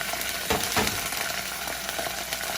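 Tomato puree sizzles loudly with onions in a hot pan, a dense continuous frying hiss with a few brief stirring scrapes, no voices over it.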